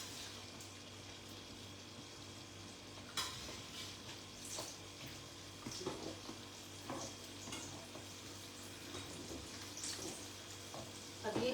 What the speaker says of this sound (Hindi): अब फिर से हम इनको डबल फ्राई करेंगे